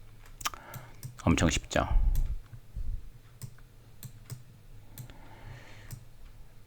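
Computer keyboard keys and a mouse click at close range during copy and paste, sparse sharp ticks spread through the stretch, while a voice speaks briefly near the start.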